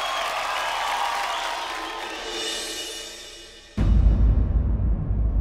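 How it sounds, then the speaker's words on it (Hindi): An audience at a Super Dancer stage show breaks into loud applause and cheering, a sustained crowd roar that starts abruptly after a stretch of music and continues strongly to the end. "जोरदार तालियों से स्वागत कीजिए"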